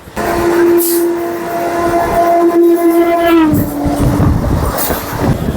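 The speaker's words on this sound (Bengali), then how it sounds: "আমাদের ট্রেন এখন দমদম জংশনে ঢুকছে" A local train pulls into Dum Dum Junction station, a long steady horn blast that bends downward as the train passes, over loud rumbling rail noise and clatter, close and prominent.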